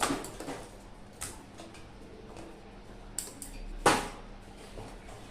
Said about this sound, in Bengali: মটনটা আমি এই গামলার ভিতরে দিয়ে দেবো